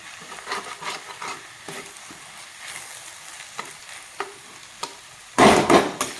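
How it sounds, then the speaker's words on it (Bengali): Eggs frying and being stirred in a pan for street-style egg chow mein: spatula scrapes and taps come in a loose rhythm over a low sizzle, with a louder burst of sizzling near the end. No one talks. "একটু নাড়িয়ে চাড়িয়ে ডিমটাকে আমি ভেজে নিব"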